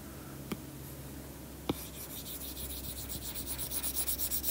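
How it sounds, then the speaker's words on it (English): Whiteboard being wiped clean with an eraser, a couple of light taps followed by a run of quick rhythmic rubbing strokes that grow louder toward the end. "So let's go ahead and erase this."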